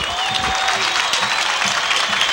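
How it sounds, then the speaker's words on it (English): A crowd at a 1998 high school football game between Mount Carmel Area and Allentown Central Catholic cheers and claps loudly after an interception, a dense, sustained roar of voices and applause throughout. "Crowd on its feet here in front of us in the Mount Carmel area side"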